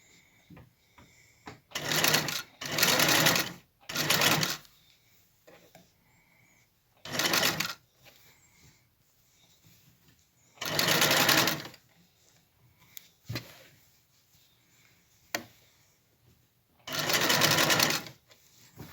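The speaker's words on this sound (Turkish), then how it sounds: "sonuna kadar bunu dikiyorum" Singer straight-stitch sewing machine with a zigzag attachment stitching fabric: five loud bursts of rapid mechanical running, each a second or two long, separated by quiet pauses and small handling clicks.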